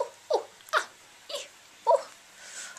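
A dog gives several short whimpering yelps, about five brief separate cries spread over a few seconds, fairly close and moderately loud with quiet pauses between them and no talking.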